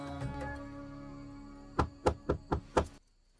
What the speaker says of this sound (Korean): 늦은 새벽 누군가 창문을 두드려 확인해보니